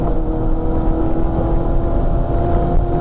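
A GM V8 Corvette race car at Bathurst drones steadily along the Mountain Straight, a loud, continuous engine note with a strong low rumble and a sustained tone, and no one talking over it.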